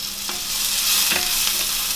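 Onions caramelise in a hot pan with a soft, steady sizzle and a few light stirring taps, close and unbroken by speech.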